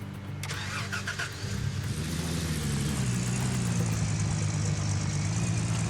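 A truck engine in the Gold Rush video game cranks and catches, then settles into a steady mid-pitched idle with a low drone that holds loud and even to the end.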